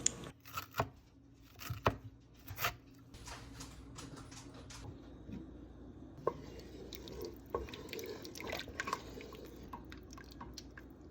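Fresh cilantro chopped with a knife on a board, a run of sharp, close taps in uneven bursts over a faint kitchen background, with no voices.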